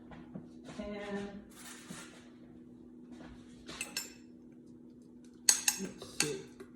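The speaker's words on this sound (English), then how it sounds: "I'm going to grab a spoon take the lid off" Spoon and pot lid handled at a kitchen sink, scattered metallic clinks and clatters with a sharper cluster of clanks near the end over a steady low hum.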